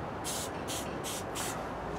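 A spray paint can hisses in short bursts while marking out a wood log for chainsaw carving. There are four quick sprays in a row over a steady outdoor background rumble.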